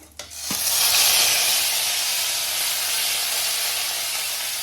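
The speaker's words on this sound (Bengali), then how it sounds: "এটা আদা বাটাটা দিয়ে দেবো" Ginger paste dropped into hot oil with whole cumin seeds: a clatter, then a loud, sustained sizzling hiss that holds steady close by, with no talking.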